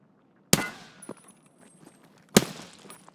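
Two sharp, loud shotgun blasts in a first-person shooter game, about two seconds apart, each followed by a short metallic clatter and decaying echo, with faint game ambience between.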